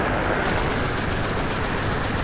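Machine guns on World War I aircraft rattle in continuous, dense bursts over a steady engine drone during War Thunder air combat, loud and close throughout.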